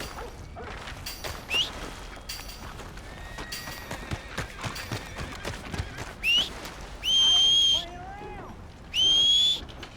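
A horse in Red Dead Redemption 2 clopping hooves at a trot, with several loud, long whistles cutting in and a brief whinny, all fairly close.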